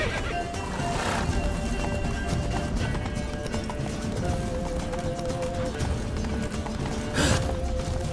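Roach, a horse in The Witcher 3: Blood and Wine, gallops with a steady clip-clop of hooves under a dense, busy game soundscape, a brief whinny-like burst rising near the end.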